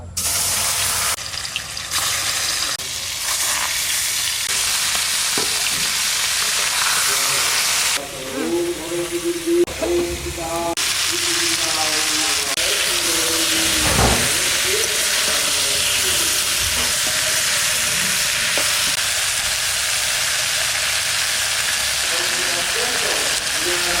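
Fish sizzle loudly in hot oil in a Bengali kitchen, a dense continuous frying hiss with brief bursts of spattering and clinks of a utensil, under occasional talk.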